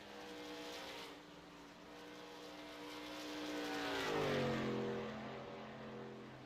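Racing trucks in a sim racing game drone past with sustained engine tones that climb and fall in pitch as they pass, moderately loud, no talking.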